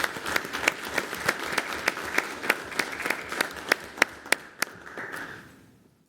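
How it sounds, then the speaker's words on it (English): A small group at a city council meeting claps steadily, sharp individual claps standing out in a loose rhythm before the applause fades away into quiet. "we will give you a round of applause"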